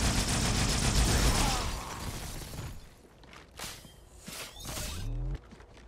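Two SMGs fire together in the video game Halo 2 Anniversary, a dense rapid rattle for about two seconds, followed by scattered mechanical clicks and whooshes.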